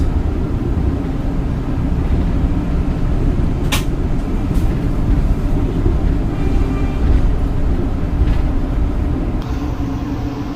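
Batavia executive passenger train running at speed at night: a steady, loud low rumble continues throughout, broken by a couple of brief clicks.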